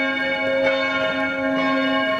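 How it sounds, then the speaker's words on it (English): Church bells ring across Vienna around mid-morning, a sustained, loud bell tone with rich ringing overtones and periodic strikes and no talking. "I'm gonna guess that they're probably bells calling people to church or something like that"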